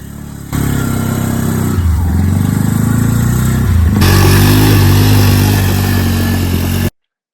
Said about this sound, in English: We were lucky enough to use a Can-Am 6-wheeler, which handled impressively.